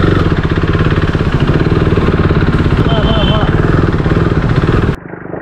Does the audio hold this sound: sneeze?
no